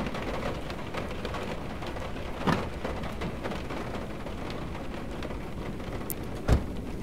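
Steady rain pours in a video game storm, a dense even hiss with a couple of brief, sharp thunder cracks breaking through.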